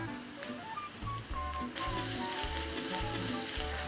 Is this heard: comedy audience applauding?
no